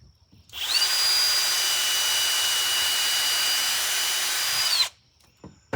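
Power drill boring a pilot hole during a Toyota Sienna camper build, one continuous high whine lasting about four seconds, then stopping into near silence.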